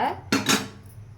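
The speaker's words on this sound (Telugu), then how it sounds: "మనం మూత పెట్టుకుందాం, కుక్కర్ మూత" A pressure cooker lid is set onto the cooker over basmati rice, giving a loud metallic clatter followed by a second clank, then quiet.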